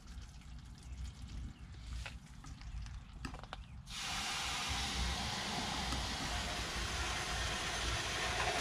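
Water rushes through an RV gray water holding tank during a flush, starting with quieter splashing and trickling before abruptly swelling into a loud, steady hissing roar that continues to the end.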